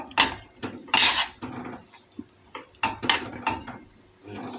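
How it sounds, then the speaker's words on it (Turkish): A spoon scrapes and knocks around a pot of bubbling apricot marmalade, a close run of irregular metallic scrapes and clunks in quick bursts. "bir çay kaşığı limon tuzu ekleyeceğiz şöyle tekrar karıştıralım"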